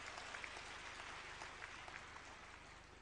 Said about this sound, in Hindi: ताली जोर से तो बजाओ